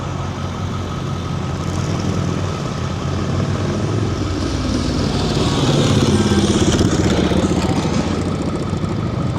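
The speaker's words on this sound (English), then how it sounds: "Here comes a guy on a motorcycle." A motorcycle engine idles and rumbles on a city street, a steady mid-pitched drone that swells slightly louder as the bike moves off, with general street noise around it.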